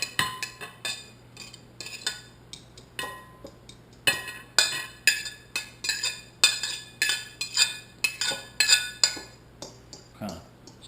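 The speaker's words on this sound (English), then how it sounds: "Kind of stir them up, mix that seasoning in a little bit." Crappie fish pieces being stirred with seasoning in a bowl, a run of quick clinking and tapping strokes, close and fairly loud, speeding into a steady rhythm.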